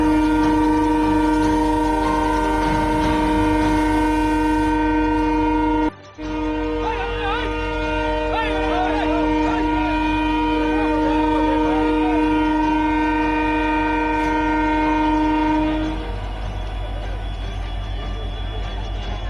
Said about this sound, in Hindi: कोई ट्रेन आने वाला है? आएगा अभी तो। पीछे पैसेंजर है तो आएगा।